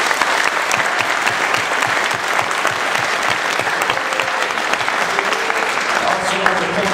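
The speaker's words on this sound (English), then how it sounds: "So let's give Dylan a round of applause" A crowd at a Dallas Cowboys football camp gives a sustained round of applause for a staff member, loud and steady for the whole stretch, with a few voices mixed in.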